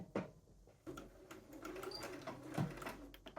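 Home sewing machine stitching a right-sides-together trouser facing seam for diamond-hem trousers, a short quiet run of mechanical clatter with a couple of louder thumps, close by and alone.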